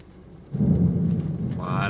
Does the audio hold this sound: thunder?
yes